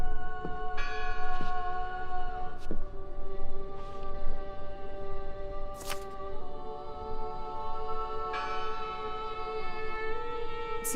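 A church bell tolls several times in the horror adventure game Draugen, each strike ringing with long, sustained overtones that linger and overlap over a quiet ambient background.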